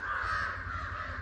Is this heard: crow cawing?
yes